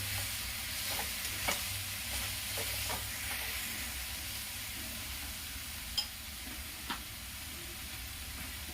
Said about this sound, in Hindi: इसे अच्छी तरह चला देते हैं।